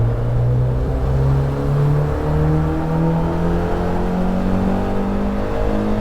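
Mazda Miata engine pulling hard on the Alastaro race circuit in Finland, a loud steady in-car drone with the pitch climbing gradually as revs build, continuous throughout.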